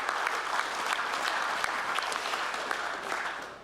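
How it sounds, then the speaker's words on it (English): Sustained audience applause at an agricultural innovation awards event, a dense even wash of clapping heard from within the room and holding steady throughout. "So what about a round of applause for the judges in this category?"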